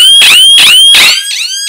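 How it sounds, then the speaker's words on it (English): A piercing electronic siren from an escape-room time bomb prop blares close by in three rapid sweeping pulses, then a softer fourth as the sound is muffled. "Siren is really loud."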